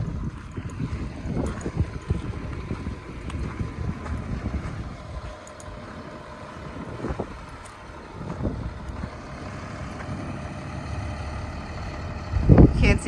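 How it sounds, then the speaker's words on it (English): Strong wind buffets the microphone outdoors on a super windy day, a rumbling low roar that rises and falls in gusts and swells loudest at the end. "It's a super windy day"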